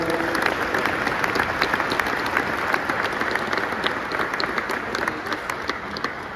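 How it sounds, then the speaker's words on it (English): Steady applause from a gathered group of coaches fills the space, dense and continuous clapping at a fairly loud, even level throughout, with a faint murmur of voices beneath. "Call a round of applause."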